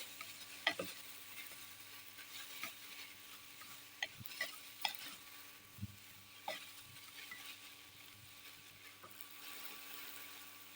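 Sprouted pearl millet for pulao is stirred and fried in a pan, with a faint steady sizzle broken by scattered scraping knocks of the spoon, all fairly quiet and without talk.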